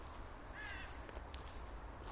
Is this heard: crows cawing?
yes